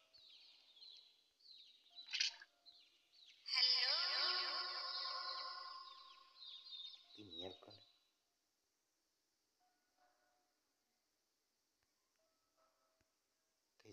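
A bird character chatters in the Garten of Banban horror game, a burst of bright, warbling chirps and tones with one long sustained squawk in the middle, fairly quiet, then fading to near silence.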